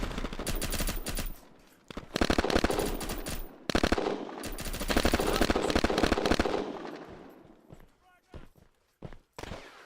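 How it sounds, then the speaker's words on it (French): Automatic gunfire in the shooter game Red Crucible Firestorm, loud rapid bursts in long volleys with short gaps and scattered single shots near the end, a voice talking over the shooting. "Je crois que ça envoie 7 balles par 7 balles, un truc comme ça."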